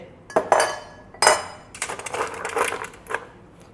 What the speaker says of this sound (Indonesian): Terakhir ya, kita akan tambahkan dengan es batu secukupnya.